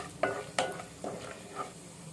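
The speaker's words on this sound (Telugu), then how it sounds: "తాలింపు గింజలు వేసుకుంటున్నాము." Tempering seeds dropped into hot oil alongside dried red chillies for tomato rasam, a soft crackling sizzle with a few clinking stirs of a spoon against the pan, fairly quiet and close.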